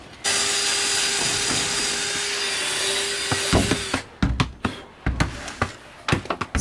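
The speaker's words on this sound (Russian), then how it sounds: "это Костя пилит." Wood being sawn nearby gives a steady, loud rasping drone for about four seconds, then breaks into scattered knocks and clatter as pieces shift, with no voices.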